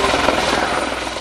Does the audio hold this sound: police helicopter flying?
yes